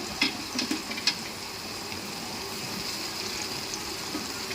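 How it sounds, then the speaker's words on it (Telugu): Tomatoes fry in a pan with a steady, close sizzling hiss. A few brief stirring knocks sound early on, and then the sizzle carries on evenly. "టమాటాలు కూడా వేగిపోతున్నాయండి."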